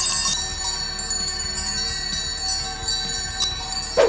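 Small bells jingle steadily in an outdoor setting in Liechtenstein, a continuous bright tinkling with a louder clang near the end and no talking.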